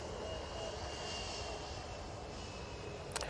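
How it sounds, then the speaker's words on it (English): A Ryanair jet arriving from Dublin touches down at Manchester Airport, heard as a steady, distant engine roar that stays even throughout, with a brief sharper noise near the end. "Ryanair about touchdown"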